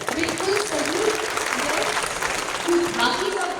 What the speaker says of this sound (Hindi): सोनम जी के लिए जोरदार तालियां हो जाए।